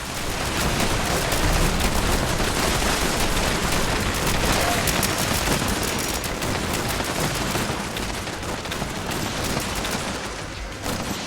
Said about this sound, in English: Explosive shotgun.